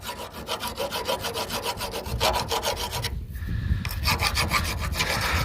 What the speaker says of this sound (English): I got my trusty file here. And there's a couple rough edges on the bottom here.